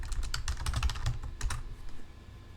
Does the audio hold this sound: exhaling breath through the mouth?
no